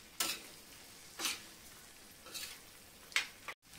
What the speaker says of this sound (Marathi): आता 5-10 मिनिटं आपल्याला हे छान परतवून घ्यायचंय